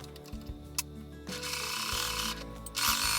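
A sewing machine stitches bias binding onto fabric bunting, its mechanical whirring starting and stopping in close, fairly loud bursts of a few seconds each, with no talking.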